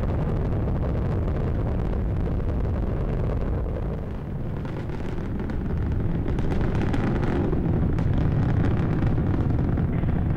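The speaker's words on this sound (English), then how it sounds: "Discovery's engines are throttling down as the orbiter passes through the area of maximum pressure on the vehicle" Space Shuttle Discovery's engines roar during a daytime launch, a continuous, dense, rumbling wall of noise heard from a distance, buffeted by wind and swelling slightly toward the end.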